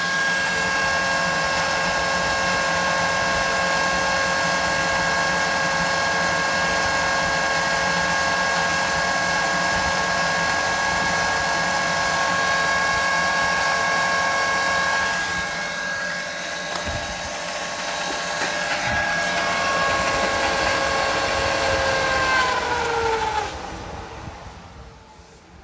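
A homemade water turbine spins steadily, driven by a fat hose nozzle, giving a continuous whirring whine with strong tonal hum that holds for a long stretch, then winds down and fades near the end.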